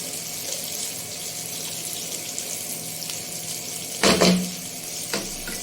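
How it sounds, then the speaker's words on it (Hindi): Water splashes into a pan of frying onions and cashews, a short loud pour rising above a soft steady sizzle, followed by a smaller second splash. "तो ये थोड़ा सा इसमें पानी डालूंगी"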